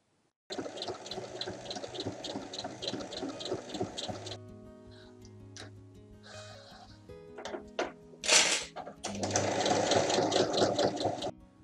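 A sewing machine topstitches a fabric beauty pouch in two close, steady whirring bursts, with quieter handling of cloth and pins in the pause between them.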